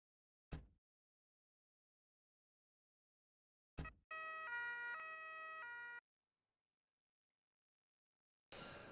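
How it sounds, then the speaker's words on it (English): Fire engine siren from the video game Emergency 4 sounds a clear two-tone high-low pattern for about two seconds, alternating steady pitches, framed by brief clicks and silence with no talking. "There's a wail, there's a yelp, and finally there's a high-low siren."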